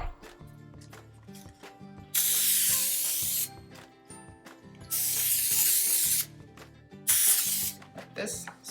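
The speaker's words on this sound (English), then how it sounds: "Then put some cooking spray." Cooking spray is misted onto a round coffee filter lining a pan for pulque sweet bread, with three long, close hissing bursts of several seconds each against a quieter background.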